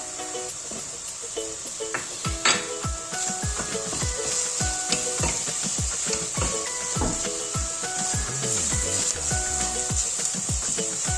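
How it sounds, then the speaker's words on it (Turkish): Minced meat frying with lightly browned onions in oil for a courgette dish, a steady close sizzle with repeated scraping and knocking of a spoon stirring the pan, soft music underneath. "Soğanlarım hafif rengini döndü. Şöyle çok az bir miktar kıyma katıyorum yemeğime."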